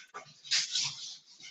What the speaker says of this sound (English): geez, that was my dog.